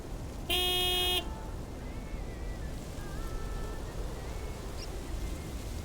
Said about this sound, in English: Big, white, wobbly, and with a honking great horn.